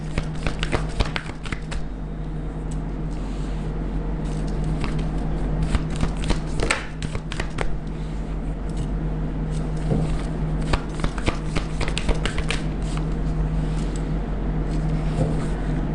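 A deck of tarot cards is shuffled by hand, giving a steady stream of soft riffling and flicking bursts for the whole stretch, close and continuous over a low steady hum, with no talking.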